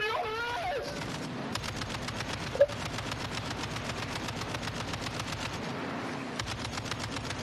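Rapid sustained automatic gunfire in an online shooter video game, a dense steady stream of shots held at even loudness with one sharper louder crack partway through, no voices over it.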